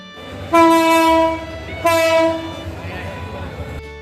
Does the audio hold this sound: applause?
no